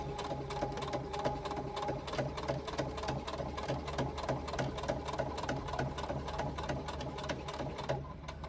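A sewing machine bastes the edge of a fabric pouch, its needle chattering in a fast, even rhythm that runs steadily and fairly quietly, with no speech.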